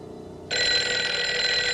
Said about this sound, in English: convenient phone ringing